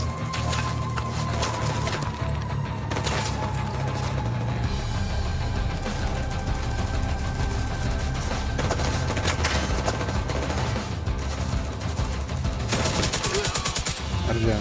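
Rapid automatic gunfire fills The Division 2 combat, with loud bursts and sustained volleys stacking up nearly nonstop, under occasional speech.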